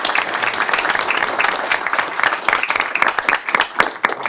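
Audience at a commission meeting breaks into sustained applause, many hands clapping steadily and fairly loud, with a few sharper claps standing out toward the end.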